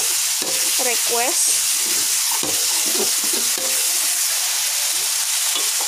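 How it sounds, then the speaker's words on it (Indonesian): Food fries in a pan with a continuous bright sizzle and hiss, while people talk briefly in the background. "Kita goreng."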